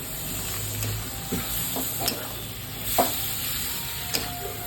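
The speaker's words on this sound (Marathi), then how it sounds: "आता यात आपण बटाटे घालूया. आणि आता याला छान असं मिक्स करून घेऊया." Spiced potato filling for bread rolls being stirred in a pan, a low steady sizzle broken by several soft spatula scrapes and taps over a constant background hum.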